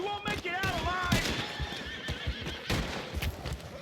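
In the video game Red Dead Redemption 2, a horse gives a loud, close whinny with wavering pitch, while hooves clop and other busy action noise carries on around it.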